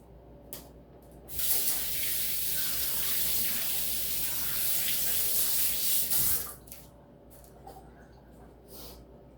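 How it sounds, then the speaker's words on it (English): Water runs from a tap as hands are washed under it, a steady splashing rush lasting about five seconds before it shuts off, framed by quieter handling clicks and movement at the start and end. "I'm going to wash my hand real quick"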